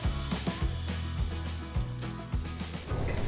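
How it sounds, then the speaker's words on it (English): Deer meat sears in a hot pan with a steady, hard sizzle that hisses continuously, close and fairly loud, beneath a droning, tonal backing that sounds like music. "you want to hear that hard sizzle"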